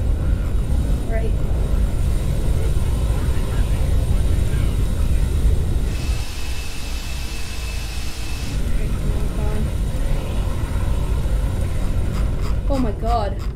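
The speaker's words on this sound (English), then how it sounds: "Alright, I gotta land as quick as possible, except I don't wanna overrun the runway." Airplane landing in the Roblox game Aeronautica, a steady engine roar and wind noise held throughout with a brief tonal whine in the middle, under a person talking.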